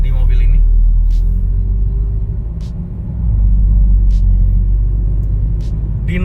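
Low, steady tire and road rumble fills the cabin of a small BMW SUV fitted with non-standard aftermarket wheels, a continuous drone that dips briefly and swells again, with someone talking over it.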